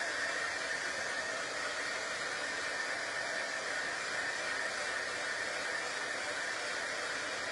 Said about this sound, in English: can you hear my hairdryer, my heat gun loud?